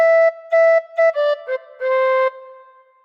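A melody phrase on tin whistle, with a run of bright, breathy notes, some short and tongued, ending on a longer held tone that fades out, played alone and close up.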